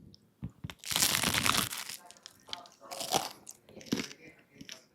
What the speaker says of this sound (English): Crunchy crust, chewy center, proper bagel texture dichotomy there